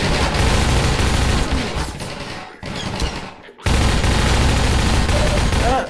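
Heavy combat gunfire in Half-Life 2, including shotgun blasts, pounds loudly and almost without pause, broken by two short silent gaps before resuming at full force.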